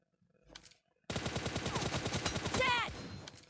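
Rapid automatic gunfire in the shooter game PUBG Mobile erupts suddenly after a brief faint sound and continues as a loud, steady burst for a couple of seconds.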